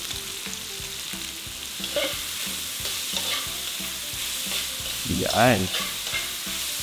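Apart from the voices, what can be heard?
sautéing onion and garlic in oil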